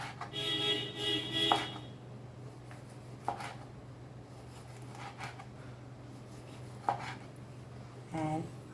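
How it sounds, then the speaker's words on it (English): A knife chops through tomato on a cutting board for a green salad, with a quick burst of cuts early on, then a few scattered single knocks, all fairly faint over a steady low hum. "same way you cut tomato."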